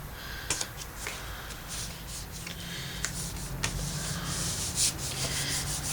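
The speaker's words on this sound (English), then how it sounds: "just rub that so it's nice and glued down" Paper being rubbed down by hand to stick it in place on a Christmas explosion gift box, a continuous close dry rubbing and scuffing with a few sharper brushing strokes.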